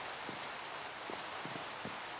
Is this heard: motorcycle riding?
no